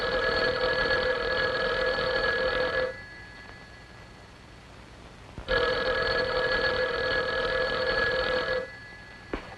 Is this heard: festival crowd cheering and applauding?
no